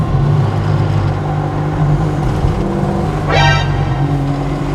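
An Opel Manta A engine drones steadily, then its pitch shifts with a quick rising sweep as the gears change down, heard from inside the car.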